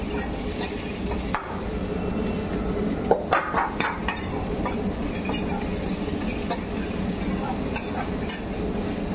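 Julienned onion and capsicum sautéing for noodles, a constant close sizzle in a pan broken by metal stirring clinks and a burst of rapid scraping near the middle.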